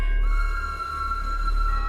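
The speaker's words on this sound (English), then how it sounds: "Have you ever laid in your bed at night and heard a train whistle in the distance?" A distant train whistle sounds as one long, steady, faint tone held over a low rumble, with no voices.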